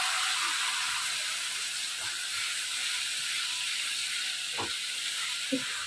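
Green chillies and mustard paste sizzling in hot cooking oil, a steady bright hiss that fills the whole stretch, with a few soft pops and knocks near the end.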